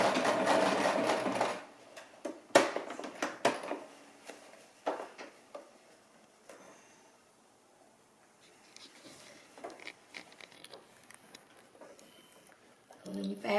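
A sewing machine stitches across thick denim seams on repurposed old jeans in short bursts, with a loud run at the start, then quieter intermittent rattles and fabric handling through the rest.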